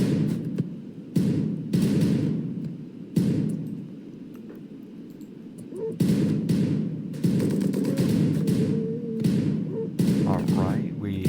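Gunfire in the Rimworld video game comes as repeated dull bursts and thumps with irregular gaps, loud and fairly close, with a voice talking in between.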